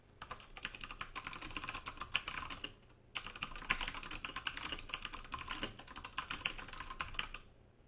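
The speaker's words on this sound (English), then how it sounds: "When I finish typing my comment" Fingers type on a computer keyboard in bursts of quick clicking keystrokes, close and clear, with a short pause midway before the typing resumes, no voices.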